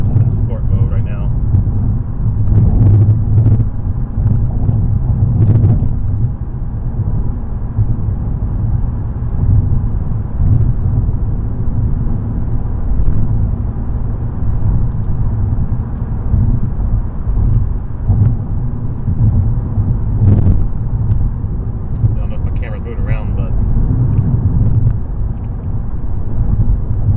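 A 2021 Honda Civic Type R drives on a bumpy street in sport mode, its engine and road noise a loud, steady low rumble heard from inside the cabin, with wind buffeting throughout.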